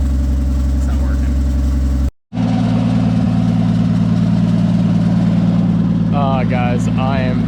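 A Toyota MK3 Supra engine runs at its first start with the downpipe off, a loud, raw idle with a steady low drone and a brief cut partway through, while a person talks over it.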